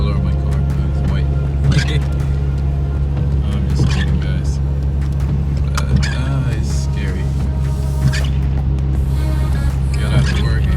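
Constant low engine and road rumble inside a rear-wheel-drive 2019 Ford Mustang driving through a snow storm, steady and loud, with someone talking over it.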